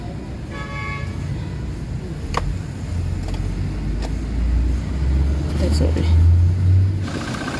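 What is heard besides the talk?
Toyota Fortuner 2GD engine starting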